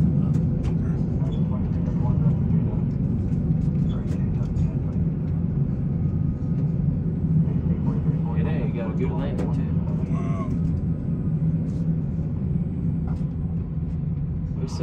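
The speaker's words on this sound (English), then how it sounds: "put your hands on the reverse thrust, pull these two up" Low, steady roar of Boeing 737 engines spooling into reverse thrust after touchdown at Reagan National, a broad rumble holding level throughout while people talk over it in the cockpit.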